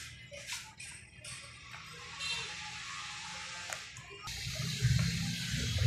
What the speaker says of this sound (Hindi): तेल हमारा गर्म हो रहा है, अब इसमें हमने ये आलू डाल देने हैं।